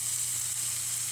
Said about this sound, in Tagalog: mag-saute tayo ng sibuyas tsaka luya. Then add natin si bawang.